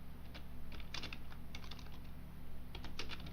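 Typing on a computer keyboard while writing a document in a word processor, a quick irregular patter of close key clicks in short bursts over a quiet room hum.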